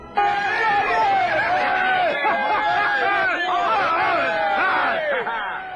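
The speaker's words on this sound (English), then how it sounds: "And now the bloodthirsty crowd was cheering for me" A bloodthirsty crowd around a fighting pit cheers and shouts for the pit fighter, a dense, loud babble of many voices with rising and falling calls throughout.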